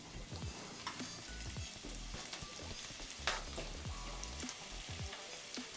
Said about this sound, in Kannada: ನಂತರ ಕರಿಬೇವಿನ ಸೊಪ್ಪನ್ನು ಸೇರಿಸ್ಕೊಂಡು ಒಂದು 30 ಸೆಕೆಂಡು ಫ್ರೈ ಮಾಡ್ಕೋಬೇಕಾಗತ್ತೆ